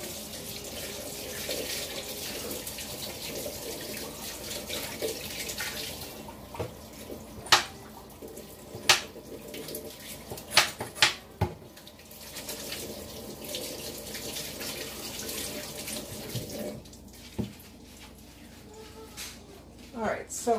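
A kitchen tap runs steadily while hands are washed after seasoning baby back ribs, a continuous close water rush with a few sharp clicks and knocks against the sink, and a voice speaking briefly.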